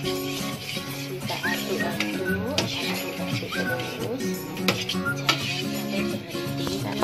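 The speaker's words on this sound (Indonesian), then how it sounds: "Kita aduk terus sampai warnanya bening." A utensil scrapes and clinks against a pan while a sweet mixture for madaiko, a Chinese New Year cake, is stirred continuously over low heat, with irregular metallic taps and scrapes throughout.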